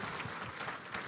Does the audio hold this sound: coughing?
no